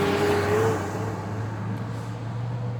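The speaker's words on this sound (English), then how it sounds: "noisy vehicles going by." Steady traffic rumble from vehicles driving past on a nearby road, a continuous low drone with a brief tonal whine early on, heard alone outdoors.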